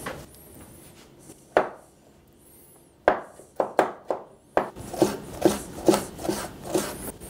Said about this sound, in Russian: Также полукольцами нарезаем киви.